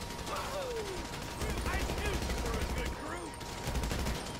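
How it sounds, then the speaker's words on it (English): Rapid video-game gunfire during Trevor's heist, bursts of shots crackling over a steady background while people talk over it. "What are you shooting at?"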